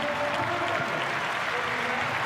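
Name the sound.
football stadium crowd applause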